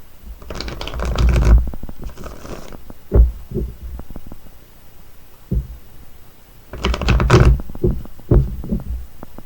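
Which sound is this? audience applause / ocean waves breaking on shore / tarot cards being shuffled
tarot cards being shuffled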